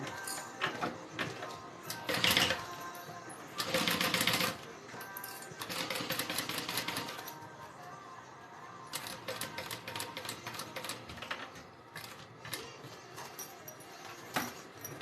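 A sewing machine stitches a Denver backpack in short mechanical bursts of rapid clatter, stopping and starting as the fabric is turned, close and fairly quiet.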